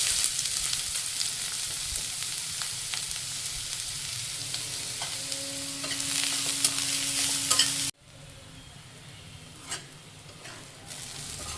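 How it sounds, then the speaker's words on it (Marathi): Onion fries in oil for a maswadi filling, a bright steady sizzle with occasional stirring scrapes; it cuts abruptly midway and resumes quieter and thinner. "तर कांदा सुद्धा आपण तेलावर परतून घेणार आहोत"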